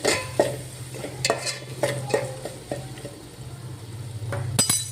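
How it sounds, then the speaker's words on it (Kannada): Jaggery, salt and spices fry in a little oil while a spoon stirs and taps the pan, producing repeated scraping strokes and light clinks over a soft sizzle, close by with no speech. "ಬೆಲ್ಲ, ಇದನ್ನೆಲ್ಲ ಎಣ್ಣೆಲಿ ಸ್ವಲ್ಪ ಫ್ರೈ ಮಾಡ್ಕೊಳ್ರಿ"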